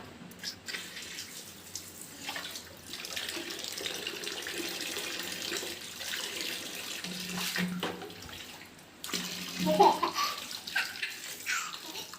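Water is poured and splashes in uneven bursts onto a cow during washing, with faint background voices.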